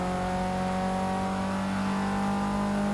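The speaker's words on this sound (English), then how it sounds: "Some people say that the Forza games really get the sound" Racing car engine in the Forza 6 video game on Xbox One, a steady loud drone with strong tonal harmonics, held at a near-constant pitch throughout without any talk.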